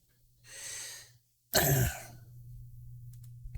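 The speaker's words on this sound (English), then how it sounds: "I had to cough." A single sharp cough breaks out after a softer breathy exhale, followed by a low steady hum in a quiet room.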